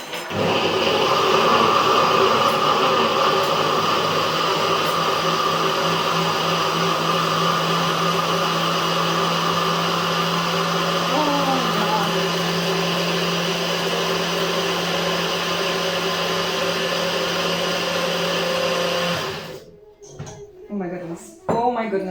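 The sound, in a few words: Nutribullet blender blending gazpacho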